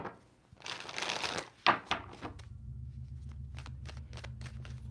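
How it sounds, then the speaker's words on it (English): Tarot cards being shuffled by hand, a couple of brisk riffling bursts followed by sharp taps and soft card clicks, close and fairly quiet over a low steady hum. "Two more shuffles for Cancer."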